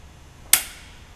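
A torque wrench gives a single sharp, close click while engine bolts are torqued down on a forged SR20DET being assembled for an S14 240SX, followed by a brief fading ring in an otherwise quiet shop.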